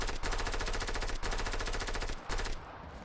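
Sustained machine gun fire in the Battlefield video game rattles loud and close in a rapid, even stream, broken by brief gaps around the one- and two-second marks.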